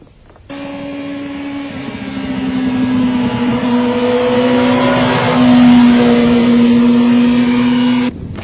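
A race motorcycle accelerates hard out of a corner on a track, its engine note close and loud, rising steadily in pitch and intensity for several seconds before cutting off.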